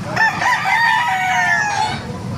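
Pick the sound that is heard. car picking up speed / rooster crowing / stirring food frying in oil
rooster crowing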